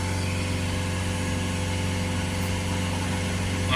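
A Citroen Relay 2.2 diesel engine held at raised revs near 3000 rpm, a steady, loud, even drone with a constant hum and no change in pitch, and no voices.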